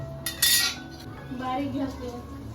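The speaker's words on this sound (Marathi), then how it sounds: "त्यानंतर आता भाज्यावर ढाकण ठेवले" A metal lid set down onto a pan of cooking vegetables on a medium gas flame, one sharp clanking contact followed by a brief rattle and a low simmer, close and fairly quiet.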